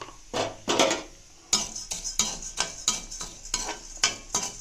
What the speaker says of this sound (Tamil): கடலப்பருப்பை இதில் போட்டு நல்லா வறுத்துக்கலாம்